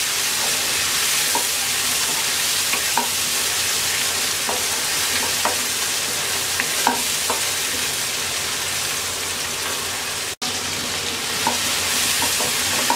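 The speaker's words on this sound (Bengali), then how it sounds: "টমেটোটাকে আমরা 1 মিনিট ভেজে নেব।" Chopped tomato frying in a pan, a continuous close sizzle broken by regular scraping and clinking of a spatula stirring, steady and fairly loud throughout with one brief dropout, no one speaking.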